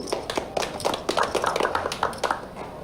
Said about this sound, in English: A round of applause for Bobby 2.